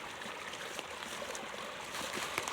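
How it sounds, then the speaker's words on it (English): A small waterfall pours over a rock in a valley after heavy rain, a steady close rushing and trickling flow with occasional splashy bursts, no voices. "Got a nice little waterfall there,"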